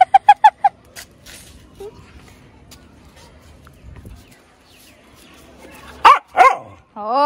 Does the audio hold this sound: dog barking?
yes